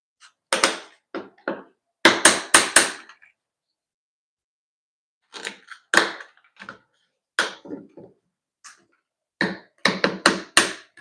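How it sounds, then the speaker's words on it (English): Clamps being fitted and tightened onto a large format tile piece, giving clusters of sharp taps and clicks in bursts with quiet gaps between. "Then I'm gonna grab my clamps again and clamp that piece in place."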